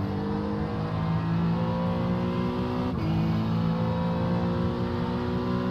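GT3 race car engine in iRacing at Watkins Glen, a loud, steady close-up drone with a brief dip near the middle as the revs shift.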